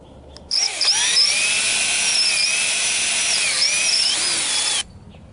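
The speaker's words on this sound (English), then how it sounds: "now I'm gonna start drilling my screw holes" A power drill whines steadily at high speed for about four seconds, loud and close, with slight pitch dips as it bites, then stops abruptly.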